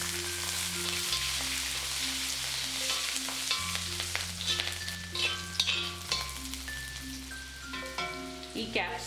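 Garlic, dried chillies and cardamom frying in hot oil for garlic chilli chicken, giving a steady close sizzle with crackling pops throughout, while background music plays underneath.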